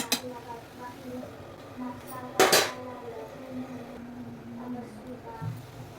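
A metal lid clanks down once onto a pot of simmering Assamese fish curry (masor tenga) on the stove, a short loud clatter standing out from faint kitchen background.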